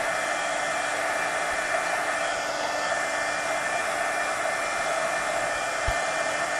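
A hair dryer blows steadily on the back of a mixed-media napkin art journal page, a loud continuous whooshing roar that holds unbroken from start to finish with no talking.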